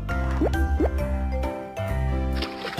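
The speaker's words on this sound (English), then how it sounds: "So many bubbles!" Bubbles popping in the Baby Panda Happy Fishing game: several quick watery plops over cheerful background music.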